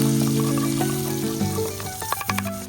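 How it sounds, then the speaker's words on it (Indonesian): Sambal chili paste sautés in a pan with a soft, steady sizzle, joined by a few light scraping and stirring knocks near the end and a faint tonal hum running underneath. "Sambalnya saya tumis terlebih dulu."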